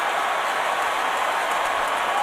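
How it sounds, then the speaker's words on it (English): Steady applause from fans in the suites around an NFL stadium during a Browns at Colts game, a broad even wash of clapping that holds at the same level throughout. "you can hear the applause because there are fans in the various suites surrounding the stadium"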